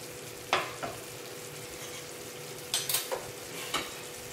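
Mushrooms go into a pan for mushroom masala and fry with a soft, steady sizzle. Several sharp clinks of a spoon against the pan come in brief clusters, close by and with no talking.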